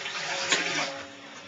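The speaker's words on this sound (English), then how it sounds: "We're just pouring some water in here." Water poured into the chamber of an ECOsmarte municipal point-of-entry filter tank during rinsing, a steady close splashing and rushing stream that swells briefly midway and then tapers off, with no talking.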